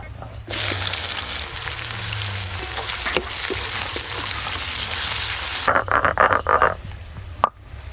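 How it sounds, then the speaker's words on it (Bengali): Chopped onion fries in hot oil with a loud, continuous sizzle that is broken up by bursts of stirring and crackling, then ends with a sharp knock. "প্রথমে পেঁয়াজ কুচিগুলো একটু লাল লাল করে ভেজে নিয়েছি"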